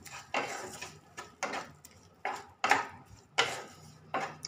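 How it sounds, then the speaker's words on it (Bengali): A spoon scrapes and stirs ridge gourd in a cooking pan for a vegetarian Bengali recipe with salt and sugar added, making about six rhythmic scraping strokes with metallic clinks. Each stroke is close and distinct, with no talking. "ভালো করে নেড়ে নেব"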